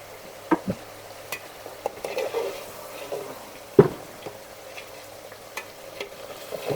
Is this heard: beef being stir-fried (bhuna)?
yes